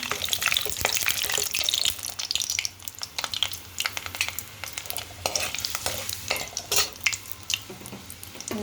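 Urad dal, cumin and garlic fry in oil in a pan for a coriander chutney. A spatula scrapes and stirs with repeated clatters over a continuous close sizzle.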